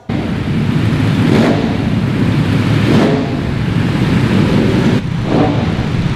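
Ducati motorcycles lapping a race track, engines roaring steadily with three pass-bys swelling and fading at regular intervals over constant wind and track noise, no voices.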